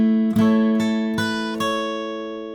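An acoustic guitar plays the opening bar of a song, four ringing plucked notes over a sustained chord, close and clear with no talking.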